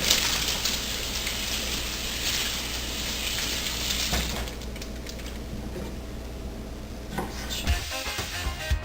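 Tap water runs in a steady broadband rush as cucumbers are washed in a kitchen sink, loud for the first half, then softer with small splashes and a brief clunk near the end.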